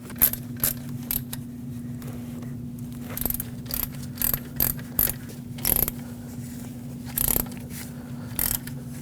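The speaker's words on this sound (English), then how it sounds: "let's finish tightening these two front bolts" A hand ratchet snugging the front alternator bolts on a Lexus IS250, its rapid clicking coming in short irregular bursts close up over a steady low hum.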